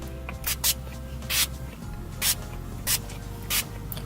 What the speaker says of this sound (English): let me definitely spray my face